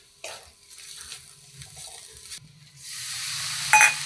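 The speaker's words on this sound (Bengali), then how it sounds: "এবার ভালো করে মশলাটা ভাজি।" Spices such as chili powder, cumin powder and cumin seeds, with turmeric added, are fried and stirred in a hot wok for a raw banana and fish curry. Scraping and stirring come first, then a loud, steady sizzle swells near the end with no talk.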